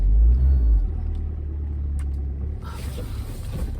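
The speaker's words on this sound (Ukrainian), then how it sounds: "Виїжджаємо з цих парковок." A car pulls out of a parking lot, heard from inside as a steady low engine rumble that eases slightly, with some brief clicks and a rise in road hiss near the end, no talk.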